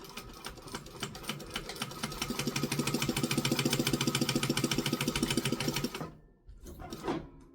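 A sewing machine backstitches on a tutorial project, with a fast, steady mechanical stitching rhythm running loud for about six seconds, then stopping, followed by a brief softer burst.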